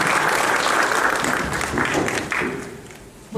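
Audience applause welcoming a speaker at a lecture, a dense wash of clapping that builds, then thins and fades toward the end.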